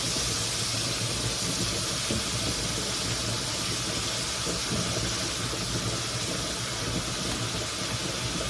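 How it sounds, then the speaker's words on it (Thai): A pork steak fries in butter in a pan over high heat, giving a loud, dense sizzle that holds steady and continuous from start to finish, with no talking. "ตอนนี้เราสามารถเร่งไฟให้ร้อนได้นะคะ เพราะเราต้องการให้ หมูหอมจากเนยที่ทอดค่ะ"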